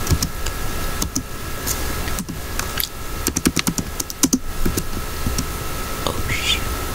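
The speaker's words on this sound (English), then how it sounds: "I think I'm typing too loud." Typing on a computer keyboard, bursts of close key clicks clustered in the middle, some in quick runs, heard under quiet whispered talk against a steady background hum.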